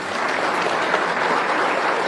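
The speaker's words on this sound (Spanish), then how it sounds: "Javier Lascano, por quien pedimos un fuerte aplauso también" A ceremony audience for Bolivia's President Arce, marking the Fiesta de la Vendimia Chapaca in Tarija, bursts into applause, a dense, steady wash of clapping that fills the whole moment at strong, even loudness.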